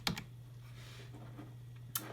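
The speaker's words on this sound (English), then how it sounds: "Then I type out mom" A few isolated computer keyboard clicks, one at the start and one near the end with a faint hum between, quiet and close with no talk.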